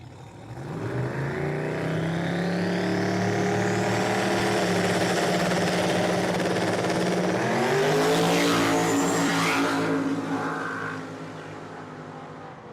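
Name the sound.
drag racing cars accelerating down the strip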